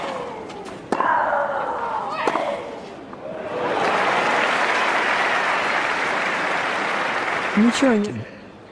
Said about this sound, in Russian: стадион взорвался аплодисментами